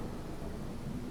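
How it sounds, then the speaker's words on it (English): Loud rolling thunder during a storm in Fallout 4, a dense and steady low rumble with rain-like hiss filling the whole moment. "that thunder's loud"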